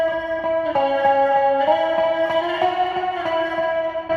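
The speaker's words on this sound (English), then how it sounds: "I came up with a lead guitar." An electric lead guitar line runs through chorus and distortion effects, playing sustained, shimmering notes with a warbling, doubled tone, loud and close with no voices, recorded for a home-made song.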